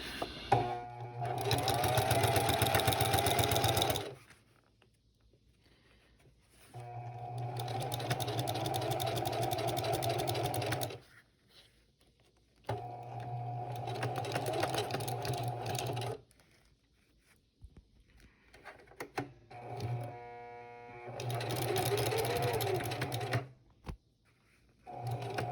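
A sewing machine stitches the last seam of a custom shifter gaiter for a 1936 Chevy coupe, running in four loud, close bursts of rapid whirring, separated by quiet pauses.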